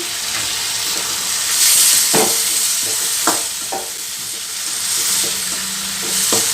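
Mutton curry masala sizzles steadily in a pan as coriander and turmeric powder are added, with a bright continuous frying hiss and several spoon-on-pan scrapes and taps close by.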